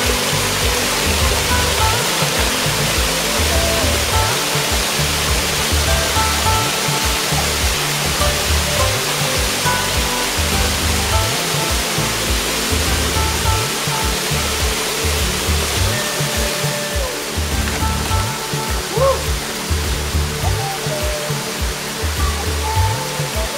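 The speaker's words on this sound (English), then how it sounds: "Holy moly, these falls rock!" Hamama Falls in Waihee Valley, Hawaii, a loud, steady roar of falling water that fills the whole stretch without pause, with no voices over it.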